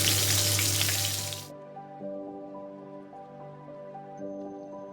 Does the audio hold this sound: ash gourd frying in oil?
yes